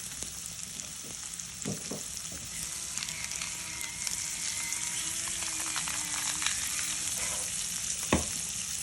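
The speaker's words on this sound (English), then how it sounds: "And you're just going to keep stirring them, mixing them around." Vegetables sauté in a pan with a continuous close sizzle, broken by scattered clicks and scrapes of a utensil stirring and tossing them around.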